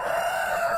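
A hoarse rooster being treated with herbal medicine for a raspy voice crows in a steady, loud, close call that fills the short moment without pause.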